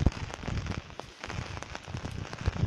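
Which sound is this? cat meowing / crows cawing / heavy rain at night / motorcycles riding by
heavy rain at night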